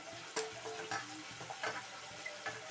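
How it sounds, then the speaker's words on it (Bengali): Diced onions fry in a pan with chicken and ginger, giving a faint steady sizzle broken by several sharp stirring clicks and scrapes, close by with no voices. "ডুমো পেঁয়াজগুলোকে ছেড়ে দিলাম, এর সঙ্গে ভাজা হতে থাকবে।"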